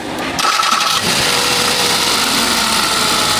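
A 2012 Hyundai Accent with a check-engine fault cranks briefly and catches, then settles into a loud, even idle close by, with no talk over it.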